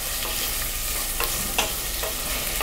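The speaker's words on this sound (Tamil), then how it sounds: "வெங்காயத்தை ஒரு 5 மினிட்ஸ் வந்து நம்ம நல்லா சிம்மில் வச்சுட்டு நல்லா வதக்கிக்கலாம்." Sliced onions sizzling steadily in about 50 ml of oil for chicken biryani, a continuous hiss of frying with occasional light stirring ticks, close and alone.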